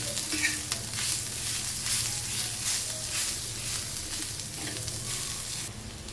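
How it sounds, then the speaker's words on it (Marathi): Onion chutney with chilli powder and crushed peanuts stirred and frying in a pan, a steady close sizzle with the scrape and shuffle of stirring throughout. "मिक्स करून घेऊया."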